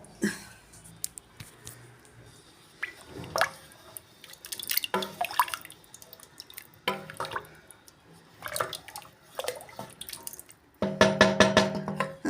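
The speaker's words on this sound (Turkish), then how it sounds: "sıcak suyunu ilave ediyorum" Hot water is poured into a cooking pot in a home kitchen, heard as intermittent splashing and trickling bursts with drips between them, ending in a louder steady pour.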